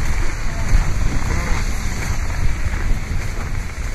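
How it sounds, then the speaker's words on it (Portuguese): Cold winter wind blows outdoors in Montreal, buffeting the microphone with a loud, rough, rumbling roar that surges and dips continuously for the whole stretch. "O problema é o vento, bate no rosto e em poucos segundos o lábio fica duro."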